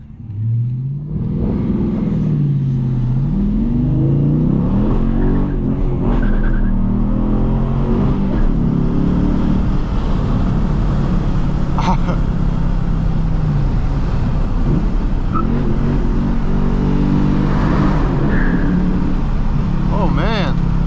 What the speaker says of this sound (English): there's nothing like running through the gears on a manual muscle car like this